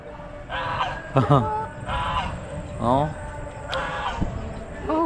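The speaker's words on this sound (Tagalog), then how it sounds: "Yan, gansa" A few honking goose calls in short bursts over ongoing chatter and background noise, fairly close.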